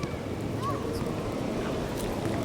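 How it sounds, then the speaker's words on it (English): Steady wind roars and buffets the microphone in a continuous low rumble, with faint whistling above it. "the wind has picked up"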